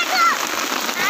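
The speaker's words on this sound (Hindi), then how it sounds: "बहुत तेज़ बारिश हो रही है बहुत।" Heavy rain pours on Mumbra mountain hill under dark clouds, a steady, dense hiss that holds loud and even throughout, with a few faint higher tones drifting over it.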